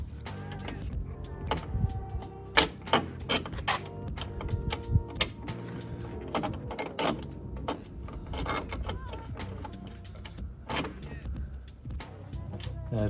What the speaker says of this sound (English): Loosen off these lock nuts, both sides.